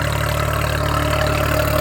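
A heavy tractor diesel engine drones steadily and loudly nearby, a constant low throbbing hum under load with no pauses as it pulls a harrow.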